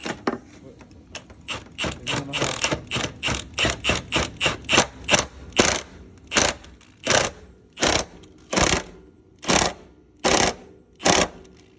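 Milwaukee power tool ratcheting bolts on a Honda Integra DB8 engine during a JDM DC2 front-end build, firing in rapid bursts that slow into evenly spaced loud pulses, close up with no talk.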